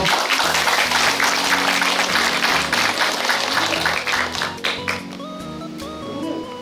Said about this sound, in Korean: 깊은 감사의 마음을 담아 다시 한번 큰 박수 보내드리겠습니다